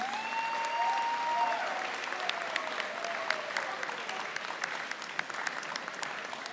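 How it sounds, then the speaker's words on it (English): A crowd at a high school awards ceremony gives sustained applause for the students, dense and fairly distant, with a brief voice-like tone near the start and scattered sharper claps throughout. "let's give everyone a round of applause"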